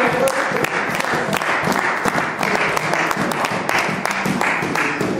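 A church congregation applauding the Lord during a sermon, a dense, sustained wash of many hands clapping at once, loud and even throughout with faint crowd voices underneath.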